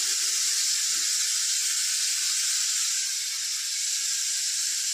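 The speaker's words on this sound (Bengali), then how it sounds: "আমুলের বাটার দিচ্ছি।" Amul butter sizzling in a hot frying pan while making paneer veg biryani, a steady bright hiss with no break, close and continuous, easing slightly partway through.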